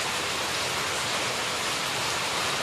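Heavy rain pours down in a dense, steady roar of hissing broadband noise, loud and unbroken throughout, with no voices heard.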